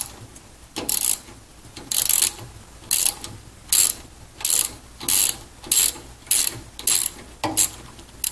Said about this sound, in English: You can insert the socket and turn counterclockwise, and this will remove the flying nut from the center.